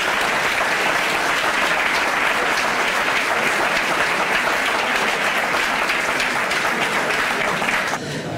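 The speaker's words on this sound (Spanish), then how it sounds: "os pido, aunque él no lo oiga, un aplauso para Rubén" An audience at a football club's gala in 2021 breaks into sustained applause, a thick, loud wash of clapping that holds steady for several seconds before tapering off near the end.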